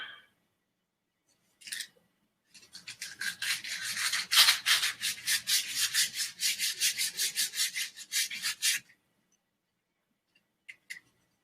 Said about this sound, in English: carving out a wand for the batch